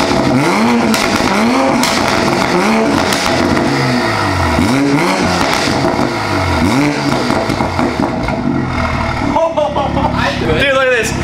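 Close and loud, a tuned Toyota Supra engine revs again and again in swelling, wavering pulls with rough exhaust roar, and a voice speaks over the engine near the end.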